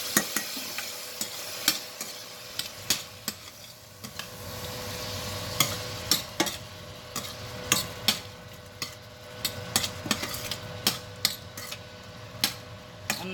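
Shrimp for a Creole steak, shrimp and peppers dish fry in a hot pan with a steady close sizzle, broken by irregular clinks and scrapes of stirring, and no one speaks.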